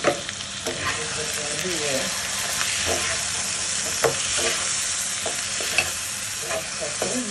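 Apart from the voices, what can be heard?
stirring chili, carrot and capsicum frying in a pan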